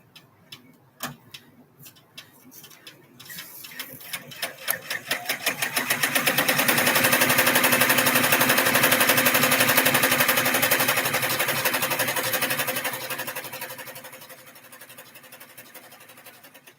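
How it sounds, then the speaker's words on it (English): A sewing machine stitches fabric down, starting with slow separate ticks, then speeding into a loud, rapid, steady needle chatter before slowing again toward the end. "now I'm going to go back one, and it's going to stitch this down for me."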